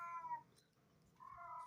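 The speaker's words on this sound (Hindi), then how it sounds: "लग रहा है छत पे ऊपर बिल्ली चिल्ला रही, रो रही है।" A cat on the roof above cries out in two drawn-out, wailing meows separated by a short pause, faint and distant with no talk.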